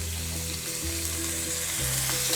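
Onions and garlic sizzling in a hot frying pan for a Fijian fish dish, a loud steady hiss close by with some bumps of stirring.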